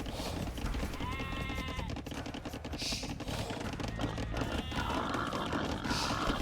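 Sheep bleat in an Age of Empires–style strategy match between Celts and Spain, a few short wavering calls rising over a busy bed of tapping game sounds and music.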